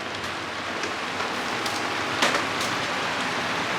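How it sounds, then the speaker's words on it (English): Heavy rain pours down steadily in a dense, hissing wash, with occasional louder drops spattering nearby. "It'd be raining out there."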